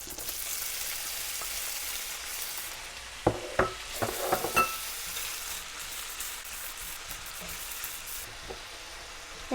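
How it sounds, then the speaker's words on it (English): Meat fries in butter in a skillet over medium-high heat, a soft continuous sizzle with a cluster of clinking and scraping knocks midway, then quieter frying. "And I'm going to cook the meat just a couple minutes before I add the onions."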